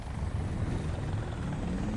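Helicopter rotor and engine drone from a War Thunder ground battle, a steady low chopping rumble holding level throughout with no voices.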